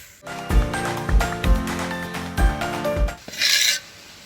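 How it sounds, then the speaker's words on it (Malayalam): A ladle scrapes and rasps through hot beaten rice flakes (aval) being mixed into jaggery syrup for a Kerala snack, with five rhythmic, close, fairly loud strokes and a brief hiss near the end. "ഇനി നമ്മുടെ അവൽ നമുക്കിതിൻ്റെ അകത്തോട്ട് ചേർത്ത് കൊടുക്കാം. നന്നായിട്ട് നമുക്ക് ഇളക്കി കൊടുക്കാം."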